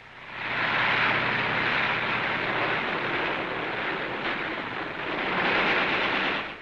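Heavy machine gun fire during the WWII Battle of Tarawa in 1943, on an airfield attack, heard as a dense, continuous roar of gunfire and battle noise that stays loud and steady throughout.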